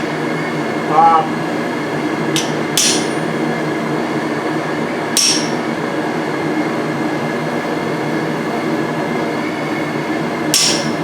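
Hammer strikes punch marks along the edge of hot steel tongs at a blacksmithing demonstration, about four sharp metallic taps spaced irregularly over a steady background hum of the shop.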